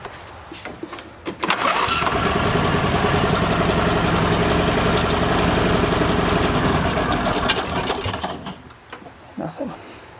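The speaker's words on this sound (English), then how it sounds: "See if we can start this thing and turn it off and see if it makes any noise now." An Argo amphibious vehicle's engine cranks and catches, then runs at a steady, loud idle for several seconds before cutting off, leaving brief mechanical clunks and a few quieter knocks in the aftermath.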